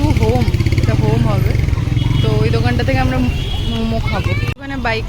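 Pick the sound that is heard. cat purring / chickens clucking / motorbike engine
motorbike engine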